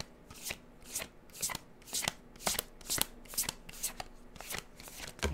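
Tarot and oracle cards being shuffled by hand in a steady rhythm of riffling bursts, close and fairly quiet, repeating roughly every half second without talk.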